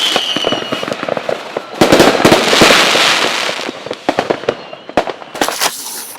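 Firecrackers go off during Diwali celebrations, a dense run of sharp bangs and crackles with a roaring burst in the middle, then scattered loud pops, close and loud.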